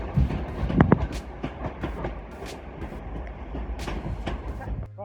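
A lightly loaded passenger train rolls through Manchester Piccadilly station with steady rumbling and clickety-clack over the rail joints, close and continuous, ending in a brief high squeal.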